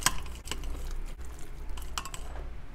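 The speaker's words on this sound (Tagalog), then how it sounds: "Halo ulit." Bread, egg and banana mixture stirred in a bowl with a utensil, giving a steady scraping and clinking at close range, with a few sharper taps against the bowl and no talking.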